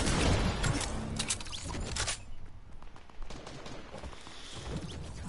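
Video game gunfire crackles in dense rapid bursts, loudest at first, then thins into scattered, quieter shots and distant pops.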